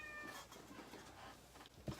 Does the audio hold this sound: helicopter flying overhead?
no